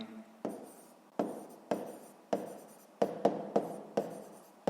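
A pen scratches across paper in quick, regular strokes, about ten sharp bursts that each fade away, as numbers are written out for a sixth-grade math exercise. No one speaks.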